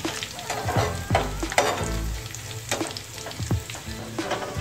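Tempering spices crackle and sizzle in hot oil in a pan for moong dal, with the clink of a spoon stirring now and then. Steady, close frying with no talking.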